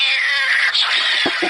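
A cat meows from a sleep sound machine, a loud drawn-out wail followed by a couple of short chirping meows, heard close and clear with no talking.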